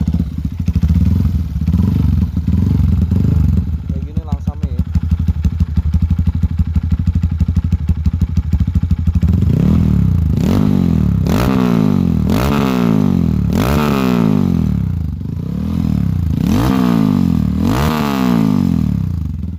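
Bore-up Honda CRF motorcycle fitted with a GP7 exhaust, started up and idling with a throbbing beat, then revved hard in repeated loud rising and falling blips, close by and alone without talk.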